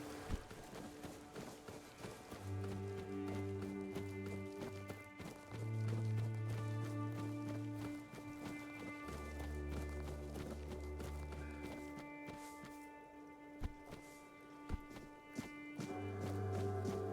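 Horse hooves clip-clopping in the video game Tainted Grail, a steady rhythmic run of hoofbeats over droning background music, with occasional soft taps.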